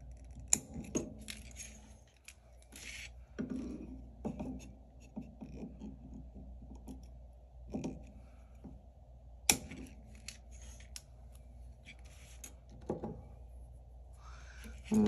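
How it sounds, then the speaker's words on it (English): Large scissors snip through craft material for a miniature DIY flower house kit, giving a series of close, sharp cuts spread irregularly over quiet background with small handling clicks. "So I'll go back to my big scissors and we will just start snipping."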